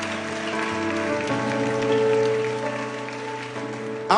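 A church congregation applauds during a sermon: a dense, continuous patter of many hands clapping at steady loudness for about four seconds, with a sustained tone, like a keyboard, ringing underneath.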